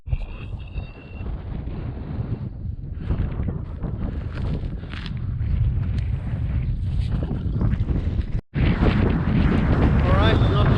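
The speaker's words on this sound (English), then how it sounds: "It's windy, so I hope it don't kill my audio too bad" Strong wind buffets the microphone on a mountain hike at Pallheia near Melbu in Vesterålen, producing loud continuous low rumbling gusts that swell and drop, with a brief cut near the end.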